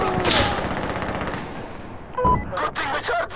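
Chemical mortar rounds firing in the video game Insurgency Sandstorm, heard as a sustained rumbling barrage followed by a few sharper blasts, loud and up close, with a voice shouting briefly during it.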